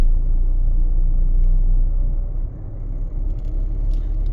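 Mahindra Thar ROXX MX1 engine held at a steady low rumble with slight swells of revving, close and continuous, with no voices over it.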